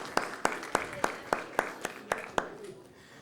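Applause in a São Paulo city council plenary session sounds as about nine evenly spaced, moderately loud claps from a small group in a reverberant chamber, fading out after the last beat.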